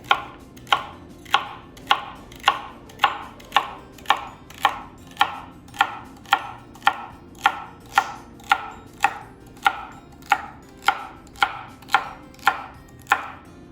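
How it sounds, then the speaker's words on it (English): A kitchen knife chops food on a cutting board in a steady, even rhythm of about twenty close, crisp strokes, with no one talking. "you wanna start with the pointy end of the knife away from you, and you wanna cut away and cut away"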